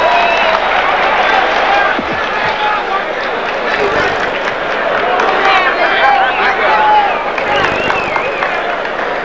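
A crowd at a boxing match in a convention hall roars and cheers for Holmes at the end of a round, a dense, loud, continuous wall of voices with shouts rising throughout.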